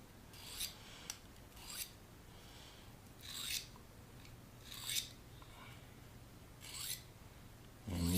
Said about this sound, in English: And you can use that to sharpen your knife.